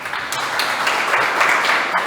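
A congregation at a church service breaks into a steady wash of applause, with dense overlapping clapping that holds at an even level throughout, without clear speech.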